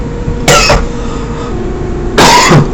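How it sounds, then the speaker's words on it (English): Two sharp coughs, about two seconds apart, close by over a low background rumble. "coughing."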